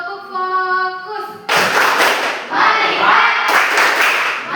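A junior high class does the rhythmic "tepuk fokus" clap, sharp bursts of many hands together after a teacher's brief voice, loud and close.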